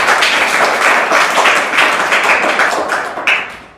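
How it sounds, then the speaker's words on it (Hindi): Applause from a studio audience on a Hindi quiz show after a contestant wins 3000 rupees, a dense, steady patter of many hands clapping close by for about four seconds, easing off at the end. "चलिए एक बार जोरदार तालियां हो जाए"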